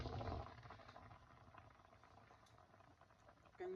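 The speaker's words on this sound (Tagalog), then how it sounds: "Kasi kumukulo rin naman yan." Steady bubbling and gurgling of thick kare-kare sauce boiling in a pot, a continuous low simmering texture close by.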